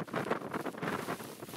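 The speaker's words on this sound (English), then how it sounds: "this weather is, it is windy and the snow is pelting me in the face" Wind gusting high on the Middle Teton in winter, snow driving against the microphone, giving a buffeting whoosh that rises and falls close and fairly loud with no talking.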